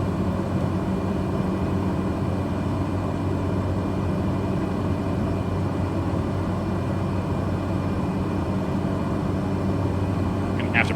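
Steady, loud drone of a Cessna 208 Caravan single turboprop in Microsoft Flight Simulator as the aircraft turns and descends, a constant cockpit hum with no change in level throughout.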